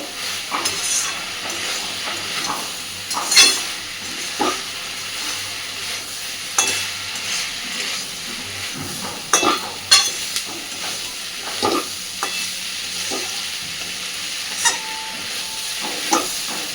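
Fried soya pakoras stirred gently through a pan of masala, with soft scraping and sporadic clatters of the spoon against the pan over a low background sizzle.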